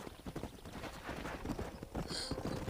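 Galloping horse hooves from the Red Dead Redemption mobile game, a steady rapid clip-clop running throughout at moderate loudness with some background game ambience.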